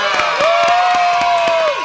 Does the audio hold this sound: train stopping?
no